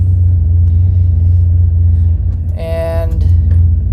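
A vehicle's engine in manual mode shifting through the gears, a loud, deep steady rumble at close range that briefly eases and rises again with a shift, while a person speaks over it.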